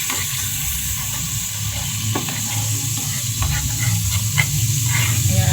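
Carne con okra fries in a pan with oyster sauce and soy sauce while being stirred, a steady close sizzle and hiss broken by soft scraping stirs.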